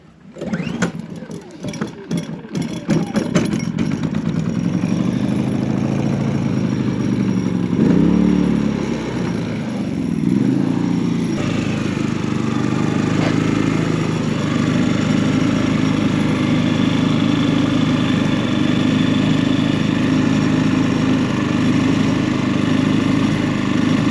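A Predator 3500 inverter generator engine starts up and runs steadily, a loud continuous drone with a rattle from an adapter fitted on the exhaust, the tone shifting briefly early on before settling into an even hum.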